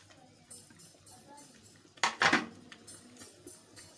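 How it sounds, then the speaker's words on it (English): A spoon scrapes and knocks around a pot of soup as bitter leaf is stirred in, with a burst of louder clattering strokes midway amid quieter scraping. "So you stir this to combine."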